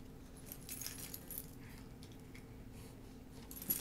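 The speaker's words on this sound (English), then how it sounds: "Keys?" Keys jangle faintly and intermittently nearby, giving soft, scattered metallic clinks over a quiet background.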